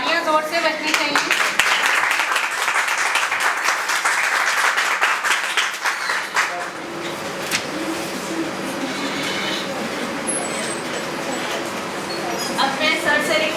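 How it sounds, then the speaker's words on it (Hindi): An audience at a college startup-planning event applauds during a memento presentation, loud clapping fading after a few seconds into quieter hall noise with faint talk in the background. "तालियां जोर से बजनी चाहिए।"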